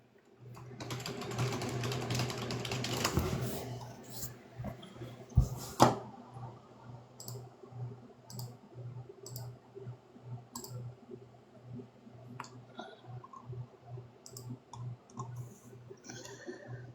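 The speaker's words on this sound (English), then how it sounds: "This is ASMR live with keyboard typing." Live keyboard typing for ASMR: a steady stream of soft, fast key clicks close to the mic, preceded by a noisy rustle and a couple of sharper knocks, with the clicking continuing at an even rhythm to the end.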